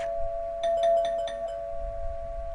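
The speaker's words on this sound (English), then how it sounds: "Front door chimes sounded." Front door chimes ring out in the 428: Shibuya Scramble game with a short run of clear, bright bell notes struck in quick succession over a faint steady hum, then quiet; no voices.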